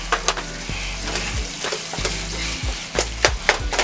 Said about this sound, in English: stirring these seasonings.